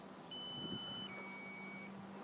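Outdoors near a beach, a device emits a steady electronic tone that shifts pitch partway through, moderately loud over a broad wash of ambient outdoor noise.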